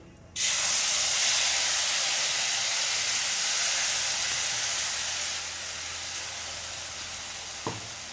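Ground spice paste drops into a hot pan for a vegetarian chhana ball curry and erupts into a loud, steady sizzle that holds strong, eases slightly after a few seconds, and ends with one brief clink.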